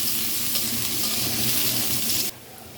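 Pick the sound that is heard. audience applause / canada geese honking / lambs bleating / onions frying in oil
onions frying in oil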